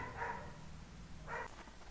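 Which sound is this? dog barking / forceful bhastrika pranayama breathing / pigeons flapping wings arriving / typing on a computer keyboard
dog barking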